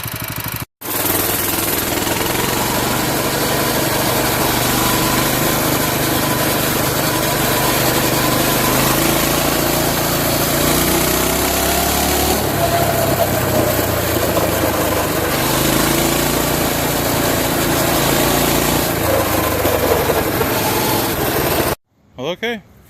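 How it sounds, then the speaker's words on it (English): A small Coleman mini bike engine runs steadily through a test ride, a loud continuous buzzing drone that rises and falls slightly with throttle before cutting off near the end. "I'll take it for a test ride here and see if it's all back to being rideable."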